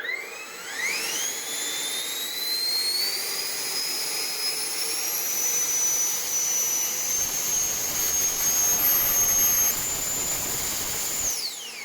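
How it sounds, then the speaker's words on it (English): A 3D printed Harrier STOL model jet, with electric ducted fans drawing about 130 amps, spools up from rest into a loud, steady high-pitched whine at full thrust. It holds for about ten seconds and then cuts off abruptly. "Time for the first thrust test with the Harrier."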